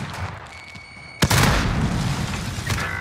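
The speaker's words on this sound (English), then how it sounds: "Grenade out!" A grenade detonates in the video game Warzone: one sudden loud blast breaks a quieter stretch and trails off into a rumbling, crackling tail.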